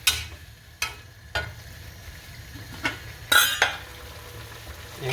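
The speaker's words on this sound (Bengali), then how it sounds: "এরকম আবার উল্টা পাল্টা করে নাড়তে হবে" A spoon stirs and turns a tomato and potato vegetable curry with spices in a pot, giving scattered clinks and scrapes over a low simmer. Close and fairly quiet, with no talking.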